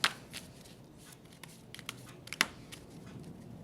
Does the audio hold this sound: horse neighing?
no